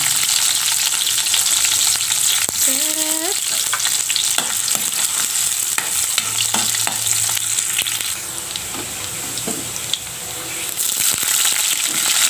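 Garlic and onion sauté in a hot pan, a loud continuous sizzle with crackling pops and occasional utensil clinks and scrapes, close by, easing slightly partway through before rising again.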